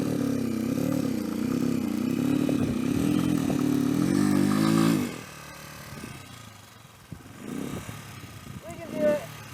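A Honda CGL 125 motorcycle labours up a loose dirt hill, its engine note rising and wavering steadily for about five seconds under careful clutch work, then cutting away to quieter, uneven sounds with a brief rev near the end.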